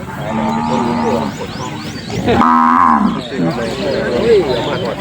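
Cattle mooing at a Thai livestock market, with several loud, close, drawn-out moos, one long bellow in the middle, and market chatter and voices around them.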